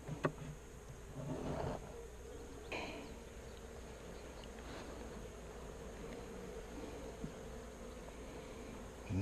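Honey bees buzz quietly throughout a beehive inspection, with a soft steady hum from the open brood box and a few brief louder passes as bees fly close.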